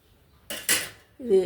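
A metal lid is set onto a cooking pot of okra curry boiling in water, giving two quick clanks followed by a brief ringing metallic rattle, close and clear.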